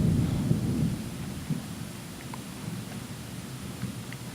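Thunder from a nearby lightning strike rumbles low and heavy, loudest at the start, then settles into a long, dull, steady rumble that gradually eases.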